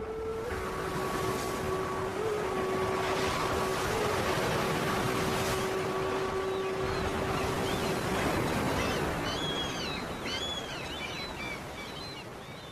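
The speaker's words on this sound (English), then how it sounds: "The waves pool at last year's kelp, shredding it and sweeping it towards the shore." Storm waves surge and wash steadily against a shore strewn with kelp, a loud, continuous roar of surf, with faint birdcalls coming in near the end.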